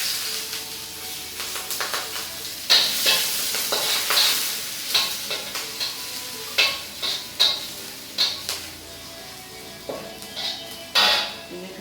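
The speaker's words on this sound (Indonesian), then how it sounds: "Kuali ini cepat panas. Oke, kita mulai bawang putih dulu ya." Garlic stir-frying in a hot wok: a steady sizzle with repeated scraping strokes of a spatula against the metal, each landing as a sharp clack at an uneven rhythm, close and fairly loud, with no talking.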